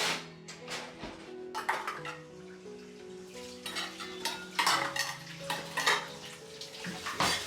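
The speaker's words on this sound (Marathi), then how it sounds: "तर आता मी ही सगळी भांडी छान एका कपड्याने पुसून मग याला डेडिकेटेड जागेवर" Kitchen dishes and utensils being wiped with a cloth and put away, giving repeated light clinks and clatters of pots, plates and cutlery close by, with soft background music running underneath.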